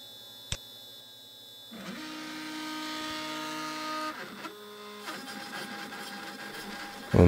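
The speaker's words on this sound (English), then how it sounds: "Make sure you turn your router on before you hit cut, obviously." A CNC router runs a cutting job: a steady motor whine rises and shifts pitch after a sharp click, holding a sustained tonal hum with brief changes in speed, loud and close with no talk.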